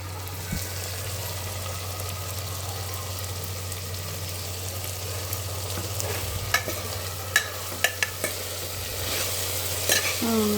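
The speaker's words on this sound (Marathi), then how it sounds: "चांगलं परतवायचे सगळे मसाले आणि 5 मिनटं असं शिजवून द्यायचं गॅसवर." Spices and a paste of roasted dry coconut are sautéed on the gas for chana bhaji, a steady close sizzle with a few sharp clicks of the stirring spoon and a final scrape.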